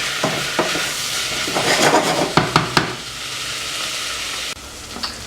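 Tomatoes, chilies, onions and cumin seeds sizzle loudly in a pan for an Indian dahl curry, a steady frying hiss broken by several sharp stirring clacks of utensil against pan.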